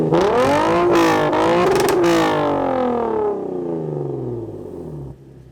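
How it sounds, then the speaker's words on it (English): A Lexus IS engine fitted with an RR-Racing intake tube revs hard, its loud, close roar rising and then falling away as it winds down and settles. "I want to give it some gas."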